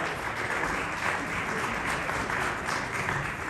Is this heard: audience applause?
yes